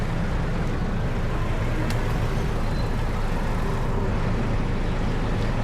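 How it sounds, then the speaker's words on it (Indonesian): Cars passing on a busy city street in Kota Tua, a steady broadband roar of traffic heard up close by a waiting cyclist, with engine rumble continuous throughout and no voices. "Lagi menunggu mobil lewat"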